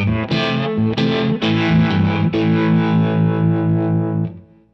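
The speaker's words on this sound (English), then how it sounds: "I'm using the Flint by Strymon, which has a very nice and warm tremolo" Distorted electric guitar chords strummed in a few bold hits, then sustained and pulsing with a warm wavering tremolo from a Strymon Flint, close to a Univibe sound, before fading.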